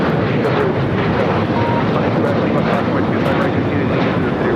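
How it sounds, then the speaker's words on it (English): Alaska Airlines Boeing 737-900ER taking off for Portland at LAX, a loud steady jet roar filling the whole clip with faint talk underneath. "1315 taking off to Portland on the 737-900ER"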